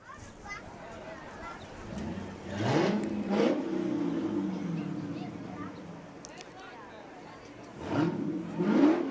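A Hemi-powered car at a town parade revs its engine, rising and falling roughly three times at moderate distance, under a commentator's talk and the noise of the outdoor crowd.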